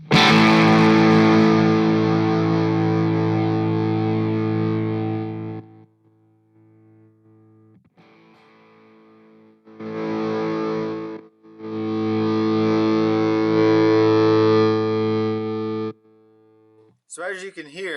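Distorted electric guitar chord played through an amp with a Weber Mini Mass attenuator. The chord rings loud and is then turned down to near silence, followed by two more loud sustained chord bursts and a brief warbling tail.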